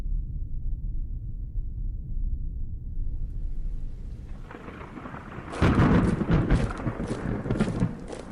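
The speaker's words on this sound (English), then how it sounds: "Sir, it's a massive thunderstorm." Massive thunderstorm in a Doctor Who fan series episode: a low rumble that builds and breaks into a loud, crackling thunderclap peaking around the middle, then rolling on, with no talking.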